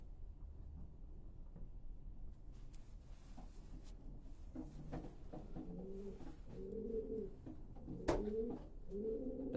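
A racing pigeon coos softly in its loft, several low rolling coos coming in the second half over a faint background hum and a few light knocks.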